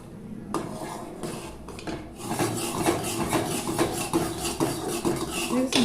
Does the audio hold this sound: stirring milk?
yes